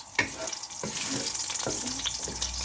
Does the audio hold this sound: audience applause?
no